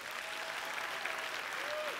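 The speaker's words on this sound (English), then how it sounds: "pull your own blindfold off to a thunderous round of applause" Audience applause at a live mind-reading stage show, a steady wash of clapping from a crowd, fairly faint and distant, with a brief voice rising over it near the end.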